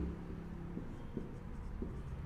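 Chalk or pen writing on a board during a Class 9 maths lesson on triangles, faint scratchy strokes in short bursts over a low steady background hum, with no talking.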